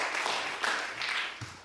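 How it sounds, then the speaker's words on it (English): Audience applause at a comedy show, a brief burst of clapping of moderate loudness heard from within the room. "Nice round of applause for coming out tonight."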